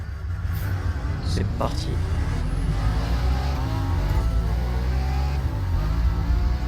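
A Ferrari engine in the racing game The Crew Motorfest drones loud and steady with rising and falling revs, while someone talks briefly over it.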